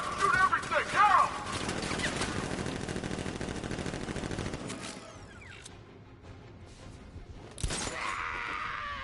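Gunfire erupts in the game Batman: Arkham Knight, with rapid automatic bursts and metallic mechanical clatter running steadily, easing off midway before a sharp burst near the end, alongside voices.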